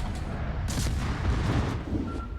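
Gunfire in a naval combat video game, a couple of booming shots with heavy low rumble over a constant background, no talk.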